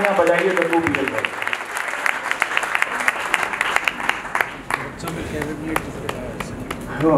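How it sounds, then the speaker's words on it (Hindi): An audience at a poets' award ceremony in a hall claps loudly and steadily, a dense burst of applause that carries on throughout, with some voices mixed in. "दोनों हाथ उठाकर जोरदार तालियां बजाइए"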